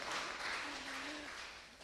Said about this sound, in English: So give us a round of applause